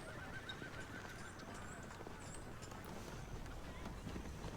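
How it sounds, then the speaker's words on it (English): Horses in a Game of Thrones battle scene, hooves clattering and a whinny rising over a dense, steady outdoor rumble, with voices underneath throughout. "Did you hear horses?"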